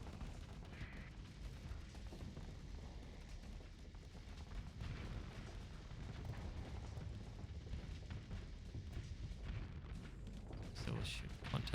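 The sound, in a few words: SRM missiles fired in video game Starsector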